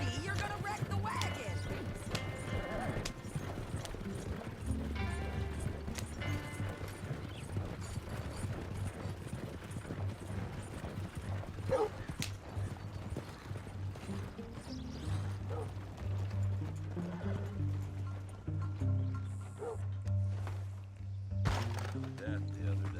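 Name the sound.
horse-drawn wagon in the video game Red Dead Redemption 2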